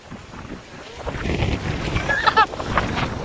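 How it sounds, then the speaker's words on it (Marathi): Strong wind buffets outdoors in a mango orchard, a rough continuous rumble that builds in force, with a faint brief squeak partway through. "वारं खूप सुटलं."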